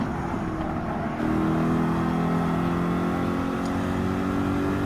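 Race car engine in Gran Turismo 7 during a Manufacturers Cup race, a steady droning whine that rises in pitch as the car accelerates, loud and continuous with a slight shift partway through.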